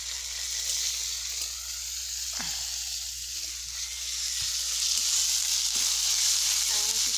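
Ginger and garlic frying in oil for a village-style meat curry, a soft steady sizzle close by with a few scraping stirs and knocks.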